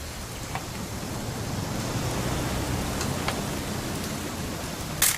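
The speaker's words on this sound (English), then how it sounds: "It's gonna rain the whole weekend," Steady rain falling in the video game What Remains of Edith Finch, a continuous hiss of drops with a slightly louder burst near the end, heard alone without talk.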